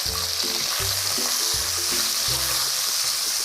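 Sausage and crushed garlic sizzle steadily in hot oil, with a spatula scraping and stirring in a repeated rhythm, close up and with no talk.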